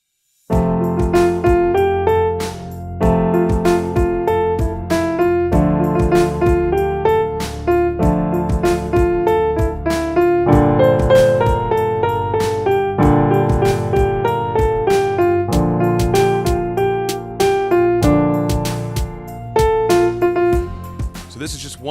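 Piano playing the chorus of a song in an intermediate-level arrangement, steady rhythmic chords with a melody on top, loud and continuous for over twenty seconds, no voices.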